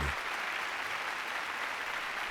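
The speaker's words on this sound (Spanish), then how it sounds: "Los aplausos duraban tanto que se utilizaban campanas para anunciar el fin del aplauso." Sustained applause from a large crowd, dense and even clapping filling the whole stretch without a break.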